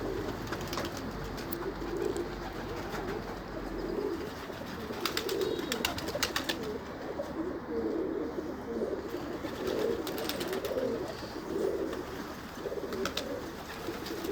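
Soft, repeated pigeon coos pulsing steadily at a low pitch, over a constant background hiss, with a few faint chirps.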